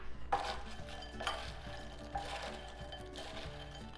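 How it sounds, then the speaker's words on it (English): Bread cubes are stirred together with sautéed onions and mushrooms for a meatloaf stuffing, making soft, continuous scraping and rustling in a bowl, fairly quiet and close. "So we're gonna mix 1 cup of bread cubes with our 1/2 cup of sauteed onions and 3/4 cups of"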